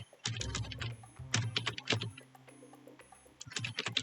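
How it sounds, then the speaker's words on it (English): Rapid keyboard typing in irregular bursts of clacking keystrokes, close and fairly loud, with short pauses between flurries. "typing in this code here for the character"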